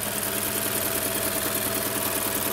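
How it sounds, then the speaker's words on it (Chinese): An All-New Mazda 3 five-door hatchback's petrol engine, with 14.0:1 compression, idles steadily with a close, even mechanical hum and light ticking that holds at constant loudness throughout, with no talking. "它的引擎噪音啊，大家可以听看看。"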